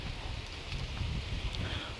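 Wind blowing through coconut and anahaw palm leaves on a one-hectare farm plot gives a steady, soft, broadband rustle with low gusty rumble, fairly quiet and continuous, with no one talking.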